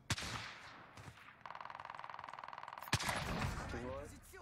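Gunfire in an online shooter game, a loud sniper-style crack followed by a rapid, evenly spaced burst of automatic shots and another sharp report, with some voice chat near the end.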